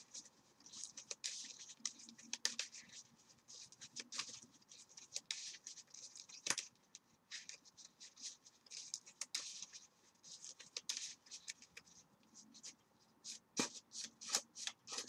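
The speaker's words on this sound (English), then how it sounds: "Sorry about me shuffling a lot." A deck of Yu-Gi-Oh playing cards being shuffled repeatedly at close range, with soft rapid riffling and tapping bursts throughout, quiet and without talk.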